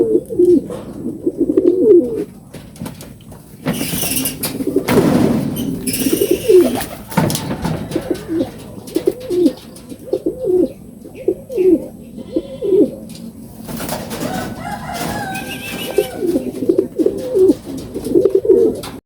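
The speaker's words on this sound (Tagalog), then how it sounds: "Ito na mga kalapatids." Racing pigeons coo repeatedly at a loft during a north derby race in Ilocos Sur, their throaty calls close and layered, with light background noise and faint voices.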